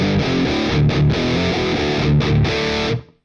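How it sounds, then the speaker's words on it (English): Electric guitar played through a drive pedal into a Bogner amp profile, a thick distorted riff of repeated chugging chords that rings steadily, then cuts off cleanly near the end. "you just take a distortion pedal or a drive pedal"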